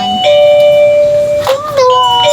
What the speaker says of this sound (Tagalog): May tunog na ng doorbell.